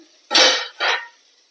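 A pan lid is lifted off while okra thoran cooks, giving two short, close metallic scrapes and clinks in quick succession with a brief gap between them, and no talk.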